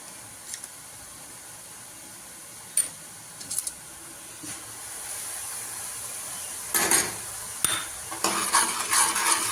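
Spices for matar paneer curry cook in hot oil with a low, continuous sizzle, broken by scattered scraping stirs and metal utensil clatter against the pan, with busier stirring toward the end.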